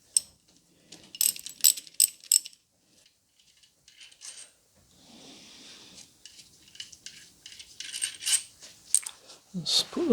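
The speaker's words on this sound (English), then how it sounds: "So I've thrown those bolts in the pot with the head bolts" Metal connecting-rod bolts from a BMW 116i are tossed into a pot with the head bolts, making several sharp clinks and rattles in bursts, close by, with some quieter shuffling between them.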